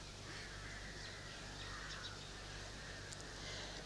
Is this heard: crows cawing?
yes